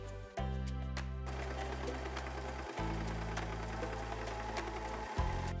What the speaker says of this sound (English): Then you're going to sew along the sides, the slant, and the top